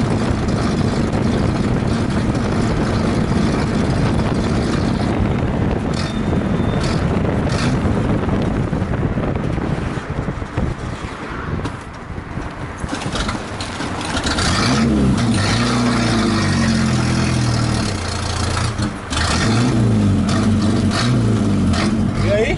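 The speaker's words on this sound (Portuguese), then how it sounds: "Tá fazendo um barulho estranho quando acelera, cara." Old Chevrolet Opala running with its engine sounding strange under acceleration: a loud, steady low rumble with wind buffeting throughout, swelling into a rougher, pulsing drone partway through, with no talking.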